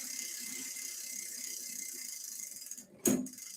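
Schwinn 5-speed bicycle shifter welded onto the frame, a steady ratcheting whir from the turning drivetrain, then one sharp clunk as the gear jumps, close and alone.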